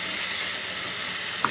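Spice masala for chicken kosha fries in oil in a pan, a faint, steady sizzle with a brief scrape or clink near the end.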